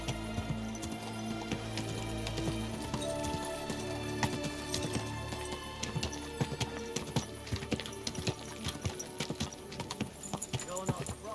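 Horse hooves clip-clop in Kingdom Come: Deliverance 2, a steady close rhythm of hoof strikes that grows busier over time, with a voice speaking over the opening part.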